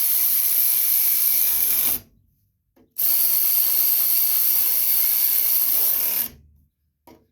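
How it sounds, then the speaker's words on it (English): Rotating impact wrench tightening carburetor bolts on a Briggs & Stratton 5 horsepower engine: two long, loud bursts of rapid hammering rattle, separated by a short silence, with a brief tap at the end. "if you're using an impact like I am, rotating impact, you want to be careful you don't over tighten them"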